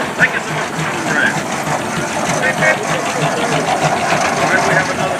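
A Case tractor engine runs at a tractor parade, a loud, steady mechanical drone and rumble that fills the whole stretch, with crowd noise and voices mixed in.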